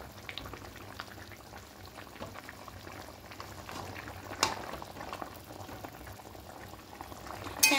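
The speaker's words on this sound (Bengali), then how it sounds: "এবার ঢাকা দিয়ে ঝোলটাকে ফুটতে দেব।" Potato curry broth simmering at a boil in a covered pot, a steady soft bubbling hiss with small pops throughout and a brief louder clatter near the end.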